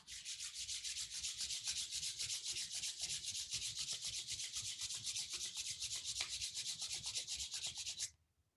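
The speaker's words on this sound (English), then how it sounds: "Rub your palms." Palms of the hands rubbed together briskly and steadily for about eight seconds, a close, dry, hissing friction sound in a quiet room that stops abruptly.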